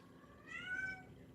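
A single cat meows close by, one soft drawn-out rising-and-falling call about half a second long over a quiet background hum.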